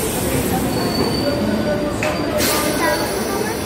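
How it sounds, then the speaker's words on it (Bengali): A train pulling out of a station, with a loud continuous rumble of wheels on rails and thin metallic squeals, close and steady throughout. "আমরা যে ট্রেনটাতে আসলাম সেটা এক্ষুনি ছেড়ে দিল না?"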